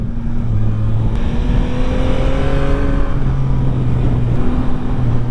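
A 2025 Yamaha MT-09 A2 motorcycle drones steadily while being ridden, its engine pitch rising and dropping between gears, loud and close with no speech.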